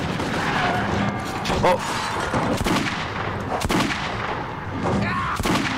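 Gunfire in the video game Metro 2033: loud, dense bursts of shots and booms filling the whole stretch, with someone shouting over the shooting.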